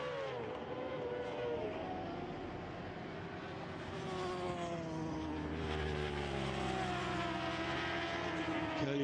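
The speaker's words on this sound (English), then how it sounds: "Polita on the Suzuki" Superbikes racing at the Vallelunga circuit, including a black Suzuki, give a steady, continuous engine roar with shifting revving tones, moderately loud and without pause throughout.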